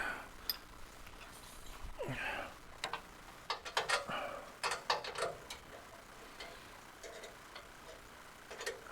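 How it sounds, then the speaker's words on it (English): A torque wrench tightening nuts in a home garage gives a run of quick ratcheting clicks and a few sharper snaps, moderately close over a faint background hiss. "let's torque these nuts"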